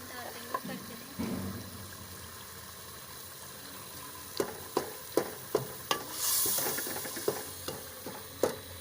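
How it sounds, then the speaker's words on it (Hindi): Chicken neck pieces fry in a pan with a soft, steady sizzle, broken by a series of sharp clanks and scrapes from stirring. The stirring sounds come at irregular intervals and grow busier toward the end. "अब इसमें हम ये गरदने डाल देंगे और इसको भूनेंगे अच्छी तरह से"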